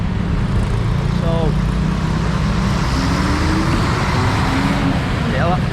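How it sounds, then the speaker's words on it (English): A noisy bus rumbles through dense Bangkok street traffic in the morning, a steady loud low roar of engines and road noise with passing vehicles throughout, and a brief voice in the background. "that bus is noisy"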